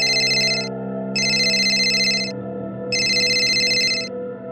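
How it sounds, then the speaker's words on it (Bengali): A phone rings in a cartoon scene. Its electronic ringtone comes in three repeated bursts with short gaps between them, loud and close, over a tonal music bed, and no one speaks. "এমন সময় তার ফোন বেজে উঠল।"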